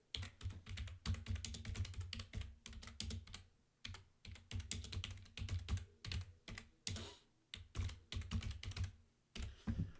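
Fast typing on a computer keyboard while entering text, a continuous clatter of close keystrokes in quick bursts with short pauses between them and no voices.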